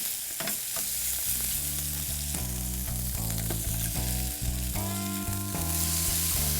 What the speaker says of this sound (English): got a nice sizzle going there